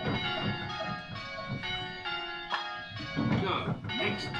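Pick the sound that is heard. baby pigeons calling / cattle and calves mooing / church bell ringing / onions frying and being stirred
church bell ringing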